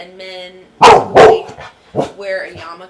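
A dog barks twice in quick succession, loud and close, cutting across a person speaking during an indoor interview; talk continues before and after the barks.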